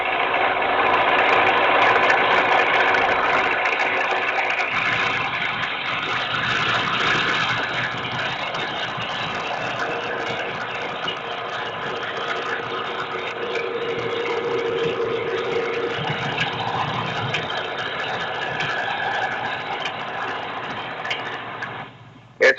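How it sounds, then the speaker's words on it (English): Pickup baler working through straw in a harvest field, a steady mechanical engine drone with rattling and clanking running continuously at moderate loudness, no voices. "the next operation, the pickup baler. As the name suggests, it picks up the straw, packs it into bales, and drops the bales ready for collection"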